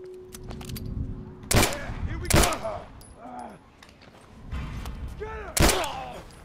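Gunshots in The Last of Us Remastered: three loud, sharp blasts spaced irregularly over a tense game soundscape, with voices in the background between the shots.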